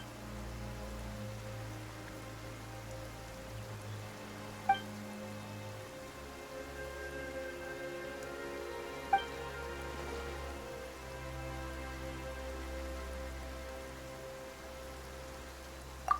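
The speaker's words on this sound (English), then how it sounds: "Why is it raining all of a sudden?" Sudden rain in Genshin Impact, a steady hiss of rainfall pattering on surfaces, with a few sharp drop clicks and a low ambient drone underneath, continuous and fairly quiet throughout.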